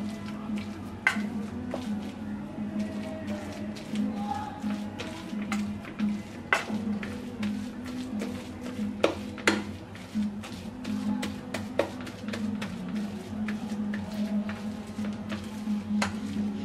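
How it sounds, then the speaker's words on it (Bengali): Boiled chicken and potato mashed by hand with a masher in a pot for chicken cutlets, giving soft repeated squishing thuds and light clinks of metal against the pan over a steady low hum. "এরকম একটা ম্যাশার দিয়ে আমি ম্যাশ করে নিচ্ছি।"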